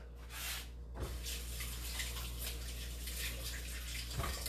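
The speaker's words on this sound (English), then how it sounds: "I'm gonna wash my hands." Hands being washed under running tap water at a kitchen sink: a steady, close rush of water with a short gap near the start and faint handling knocks, no talking.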